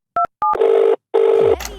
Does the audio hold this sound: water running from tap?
no